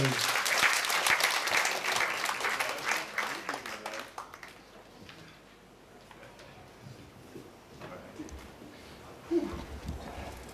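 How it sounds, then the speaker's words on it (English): An audience at a university event applauds a guest editor. Loud, full clapping runs for about four seconds, then dies into a quieter room with faint murmuring and scattered noise. "please give Mr. K a big round of applause"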